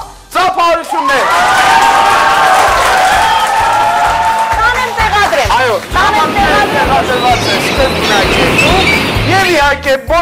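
An audience at a school event applauds loudly and continuously, a dense wash of clapping with cheers and crowd chatter that swells, dips briefly and carries on.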